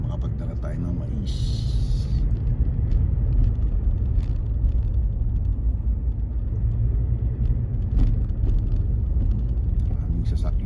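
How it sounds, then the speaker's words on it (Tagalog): Steady low road rumble of heavy traffic in downtown Gilroy, with many vehicles including a truck, heard as a continuous droning wash from within the flow of cars, with faint voices underneath. "Maraming sasakyan."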